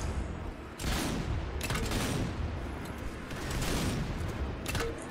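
Pistol gunfire in the zombie shooter Zombie Army 4: Dead War, a series of muffled, somewhat distant shots popping irregularly over a steady rumbling game background.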